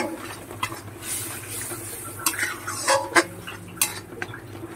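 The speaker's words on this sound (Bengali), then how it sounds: "এবার ভালো করে মশলাটাকে কষিয়ে নেব।" A watery spice paste for a Bombay duck curry being stir-fried in a pan, with a spoon scraping and knocking against the metal in irregular strokes over a low, soft sizzle.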